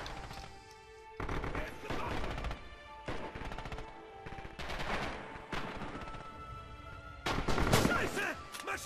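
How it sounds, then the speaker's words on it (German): Machine gun fire in the Red Orchestra 2 video game rattles in several loud bursts, some longer and some shorter, separated by brief pauses amid battlefield noise. "Maschinengewehr!"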